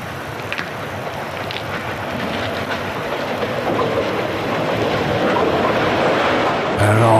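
An Erie Lackawanna eastbound train passes near the Far Hills siding with a steady, building rumble of wheels and engine, growing louder toward the end, with faint clicks on the rails.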